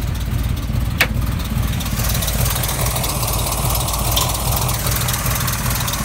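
A 1969 Pontiac Firebird's 400 V8 engine idles steadily up close, a loud, even low rumble with a faint rhythmic lope and no voices.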